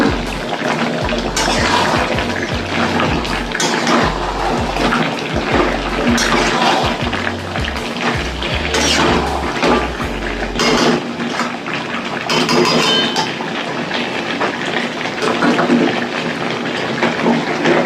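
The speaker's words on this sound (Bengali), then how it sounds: "এবার আমি গরম জলটাকে দেবো" A strong, continuous stream of hot water is poured into a pan of cooked chicken. The rushing, splashing flow runs loud and close for most of the stretch, with no talking.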